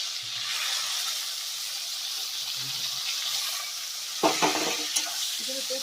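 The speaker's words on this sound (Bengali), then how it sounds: "এই সাদা তেলে ম্যারিনেশন করে রাখা চিকেনটা আমি একটু 4-5 মিনিট ধরে কষিয়ে নেব" Marinated chicken frying and being stirred in hot white oil, a steady close sizzle with scraping spoon strokes and clatters near the end.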